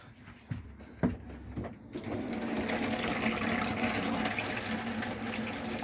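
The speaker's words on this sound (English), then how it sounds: "Got hot water coming in the vanity unit." After a few clunks, hot water gushes steadily from the tap into the vanity unit basin of a Swift Freestyle S6 caravan, a close, continuous splashing flow.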